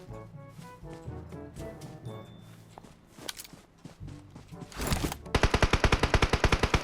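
Rapid automatic gunfire in PUBG Mobile, a tight burst of evenly spaced shots at the end following scattered shots and footsteps under game music, loud and close.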